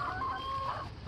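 Backyard chickens give soft, close clucks and a drawn-out higher call over a murmuring coop background, with no one talking.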